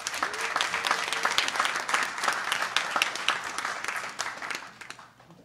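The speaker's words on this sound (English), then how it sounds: "let's begin, and with a round of applause for our pod." Audience at a live podcast recording applauds steadily, a dense wash of clapping from a crowd that fades out over about five seconds.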